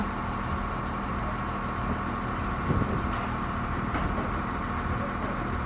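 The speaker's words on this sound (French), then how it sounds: "On entend le moteur de la grue." Crane engine running while lifting a Figaro sailing boat at a harbour weigh-in, a steady low mechanical rumble held at a constant level for several seconds, with faint knocks and clanks over it.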